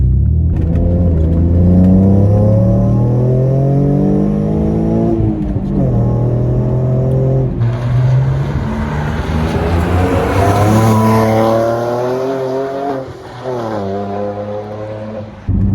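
A loud Alfa Romeo 147 GTA engine revving up and down repeatedly, rising and falling in pitch with a throaty rumble, close by and continuous.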